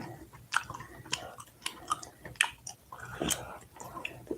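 Close, wet gum chewing at an informal live eating session, with soft rhythmic smacks and clicks repeating every half second or so, quiet and unaccompanied by talk.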